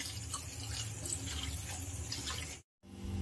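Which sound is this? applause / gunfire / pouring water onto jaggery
pouring water onto jaggery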